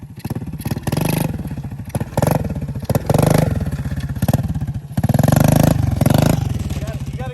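A pit bike engine revs under throttle close by, rising and falling in repeated pulses with a buzzy, rough mechanical tone, while voices talk over it.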